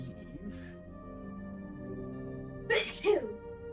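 A single sneeze bursts out near the end, sharp and fairly close, following quiet talk and background voices.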